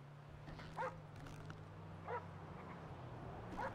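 A dog in a GTA roleplay game gives a few short barks or yips at intervals, fairly faint over a low steady hum.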